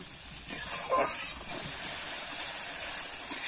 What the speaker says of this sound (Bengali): এবারে কিন্তু আমি মশলাটা ভালো করে কষিয়ে নেব।